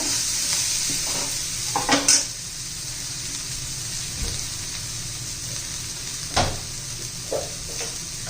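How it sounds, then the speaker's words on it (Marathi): Spices frying in oil for an abhay bean vegetable dish, a steady close sizzle broken by occasional spoon scrapes and knocks against the pan as they are stirred. "मसाले पण चांगले तेलात फ्राय झाले पाहिजे तोपर्यंत हलवायचे मस्त"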